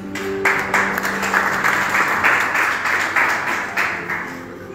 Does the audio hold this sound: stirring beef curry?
no